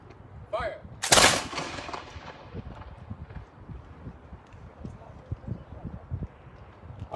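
A single loud volley of ceremonial musket fire cracks out aboard the USS Constitution, then a long fading rumble echoes over the water. Faint scattered sounds follow the blast.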